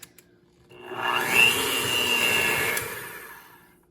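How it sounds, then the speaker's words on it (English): Coconut flour, almond flour, baking soda and salt being mixed in a bowl, heard as a continuous rising scraping and whirring that swells, holds for a couple of seconds, then tapers off, with no talk. "And then I'm just going to mix this until it's combined."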